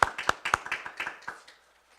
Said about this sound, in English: this deserves a round of applause for Firefighter Dunphy